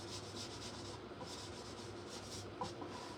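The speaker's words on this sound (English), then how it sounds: "we're just going to give this a little bit of a sanding" A sander rubs steadily over a vintage Santa stocking, making a soft continuous scratchy hiss, faint and close.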